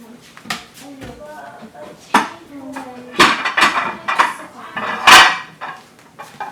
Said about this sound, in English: let's put this in a pan